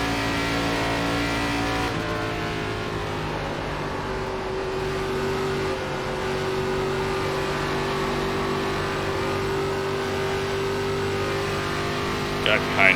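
A NASCAR ARCA race car engine in the iRacing sim at Pocono Raceway holds a steady, loud drone at sustained high revs, with a brief tire squeal near the end.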